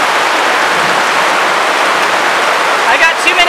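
Heavy rain pours down steadily as a dense, continuous hiss close by, with a few faint higher sounds near the end.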